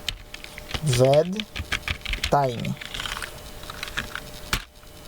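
Rapid close-up clatter of a computer keyboard as code is typed, the keys pattering steadily throughout while a voice speaks briefly over them.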